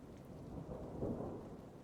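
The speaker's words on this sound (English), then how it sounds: "Oh, thunder." Distant thunder rumbles low and continuously beneath steady rain, a faint rolling swell peaking midway, with no voices.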